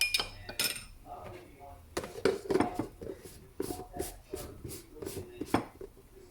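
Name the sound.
mixing cornstarch into cold water with spoon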